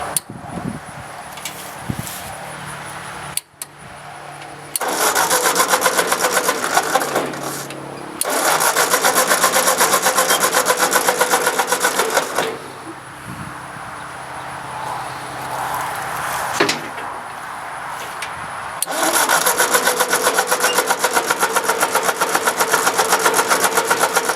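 A 1954 Ford Jubilee NAA tractor engine, recently fitted with a Pertronix electronic ignition conversion, runs out of gear. It is close and loud, with several surges of throttle between quieter idling stretches.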